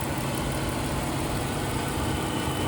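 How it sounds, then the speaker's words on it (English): A 2017 Dodge Challenger GT AWD with a 3.6 liter variable valve timing V6 idles steadily, a smooth, even engine hum with light vibration and no revving, heard alone. "It's really a quiet engine."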